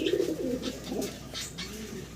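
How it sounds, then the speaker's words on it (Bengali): A pair of pigeons coo close by, a few low, throaty rolling coos in quick succession, with a faint chirp and some light background noise. "আমরা খুব সুন্দর একজোড়া কবুতর আপনাদেরকে দেখাচ্ছি"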